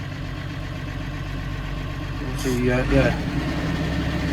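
A Massey Ferguson 135 tractor with 10,845 hours idles in a steady low diesel rumble close by, rising slightly midway, while someone speaks briefly over it.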